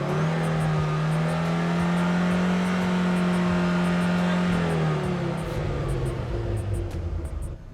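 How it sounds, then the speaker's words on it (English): Honda Civic hot hatch with a loud aftermarket exhaust at a race event, droning steadily close by, then the engine note shifts and drops while a light ticking repeats in the background. "You can thank William for buying me a car with a loud exhaust."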